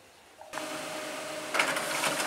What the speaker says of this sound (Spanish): Y nos empieza a imprimir.